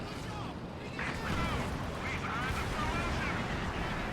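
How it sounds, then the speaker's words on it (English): Cluster bomb blasts in a Company of Heroes 2 match, a dense, continuous rumble of explosions and gunfire under steady game noise. "More cluster bombs."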